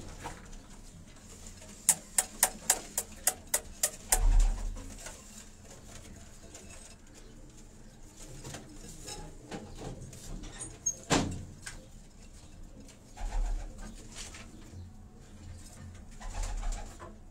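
Jaunsar high-flying pigeons are kept in a loft, with soft cooing, a quick burst of wing claps or tapping early on, and scattered knocks and rustles.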